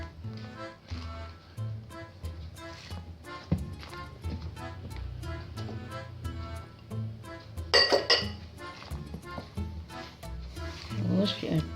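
A utensil stirs Beng Beng sponge cake batter in a bowl, with repeated clinks and scrapes against the bowl in an irregular rhythm, a brief louder clatter partway through, and someone speaking intermittently nearby.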